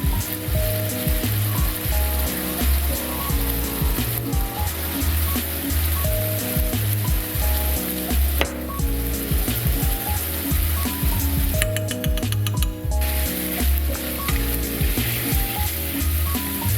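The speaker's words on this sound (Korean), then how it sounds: "피쉬 소스 3큰술, 굴소스 1큰술을 넣고 우선 잘 볶아줍니다." Pork and green beans stir-frying with fish sauce and oyster sauce for Thai basil pork, a steady loud sizzle with repeated clanks and scrapes of a utensil against the pan throughout.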